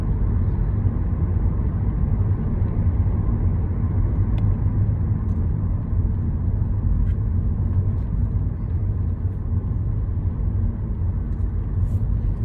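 A car drives along a street during a driving lesson, steady engine and road rumble throughout, loud and continuous from inside the cabin, with no clear speech.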